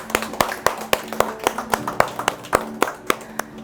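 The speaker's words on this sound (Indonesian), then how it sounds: "Iya, tepuk tangan." A small group at a church anniversary celebration claps hands in a steady rhythmic beat, sharp distinct claps repeating about four times a second over a faint sustained tone.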